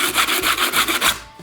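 Sandpaper on a sanding block rubbing back and forth over a 3D-printed concrete fire feature or planter, a close, steady scratchy rasp in about six even strokes with no talking.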